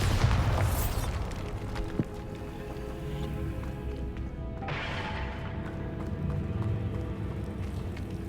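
Bombarda blasting spell going off in Hogwarts Legacy: a broad booming burst at the start and a second blast midway, each fading into a low rumbling game ambience, fairly loud and close.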